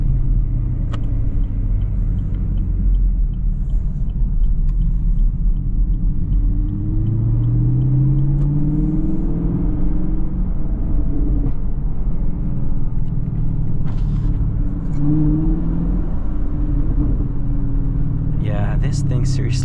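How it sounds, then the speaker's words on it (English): A 2022 Chevy Camaro V8 rumbles steadily throughout with a deep, continuous low exhaust drone and occasional rising revs, loud and close, while a person talks over it; individual pops and crackles are not clearly distinct. "There's just a ton of pops and crackles."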